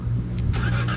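A Chevrolet Onix RS with its stock exhaust and only the tips changed revs up on a track, a steady low engine drone rising into a brief burst of acceleration at close range, with no talking.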